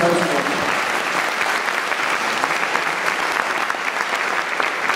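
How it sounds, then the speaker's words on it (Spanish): A crowd claps loudly and continuously at a music awards ceremony, a thick wash of applause that holds steady throughout, with a brief voice fading at the very start. "por favor, un aplauso"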